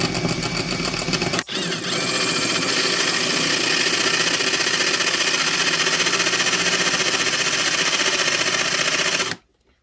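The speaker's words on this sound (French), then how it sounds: "on va percer les rivets de devant" A tired drill bit boring out the front rivets of a Dakar absorption-type exhaust can, a loud, steady motorized whine and grind running almost without a break, with a short dip early on, then cutting off abruptly near the end.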